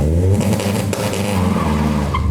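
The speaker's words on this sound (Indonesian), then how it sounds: "mobil sekarang sudah bisa idle dengan sempurna" A car engine idles after a Speeduino standalone ECU install, a steady, close, low throbbing rumble with no talk.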